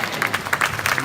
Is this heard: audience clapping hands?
yes